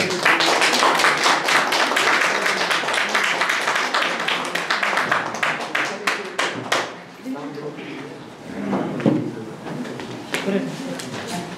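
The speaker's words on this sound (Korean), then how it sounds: "큰 함성과 박수로 맞아주시기 바랍니다" A crowd claps and cheers loudly for several seconds at a Sejong City education superintendent candidacy declaration event, the applause thinning out and giving way to a voice speaking over the fading claps.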